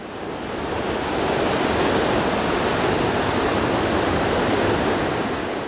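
Waves wash in at Dauphin Island, leaving yellow foam along the shore. The surf is a loud, steady roar that rises and holds throughout.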